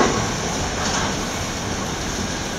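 A train rolls past close by at Clapham Junction station on New Year's Day, a steady loud rumble and rail roar with a hissing high edge, continuous throughout.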